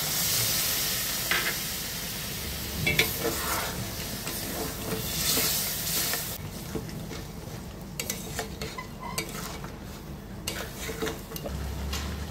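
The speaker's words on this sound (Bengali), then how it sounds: "এবার দিয়ে দেবো ছোট্ট বাটির 1 বাটি জল।" Water poured into a pan of Kerala-style crab roast sets off a loud hissing sizzle that gradually settles into a steady simmering bubble, with occasional utensil clinks and no voices.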